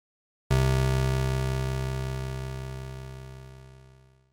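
Single TAL Bassline synth bass note with no sustain and a lengthened release, starting sharply and fading slowly over about four seconds; rich, buzzy and alone.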